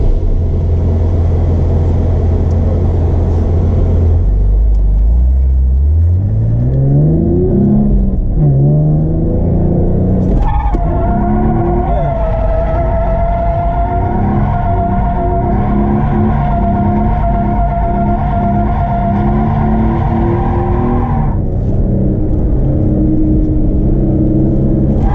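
Hyundai Genesis Coupe engine revs hard as the car is drifted with a handbrake initiation, pitch sweeping up and then holding a loud, steady high-rpm drone for about ten seconds before easing off, close inside the car.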